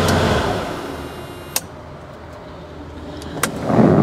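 A 1990 Ferrari Testarossa engine shutting down, its steady running fading to near quiet, with two sharp clicks in the quiet and a brief rustle at the end.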